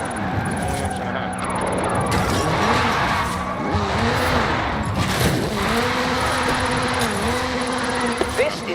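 Ken Block's Hooligan Gymkhana 10 Ford Focus RS RX, a 2-litre turbocharged all-wheel-drive rally car in Forza Horizon 5, revs and drones continuously, with wavering engine pitch and tire squeal. A voice talks throughout.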